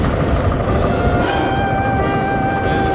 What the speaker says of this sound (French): C'est dans un tram d'un autre âge qu'ils s'en vont vers la banlieue.